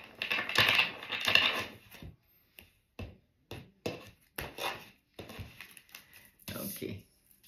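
Tarot cards being shuffled by hand, heard as close crisp riffling and slapping bursts: a long flurry at the start, then a string of shorter bursts separated by quiet gaps.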